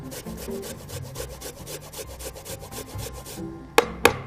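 Fresh ginger root rubs against a grater in quick, steady strokes up close, a rhythmic rasping that ends with two sharp taps.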